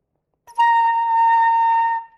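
A thin, airy flute tone from a flute played with the lip rolled in too far, covering too much of the embouchure hole, held as one steady note for about a second and a half.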